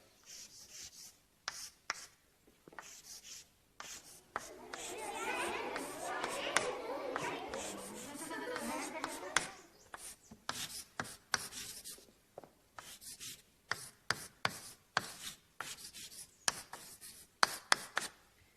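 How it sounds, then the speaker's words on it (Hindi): Pen or pencil writing on paper, a steady rubbing scratch of strokes with short taps and pauses between them, rising to a denser stretch of scribbling partway through, close and alone. "कुछ ऐसा लिखते थे विंची साहब"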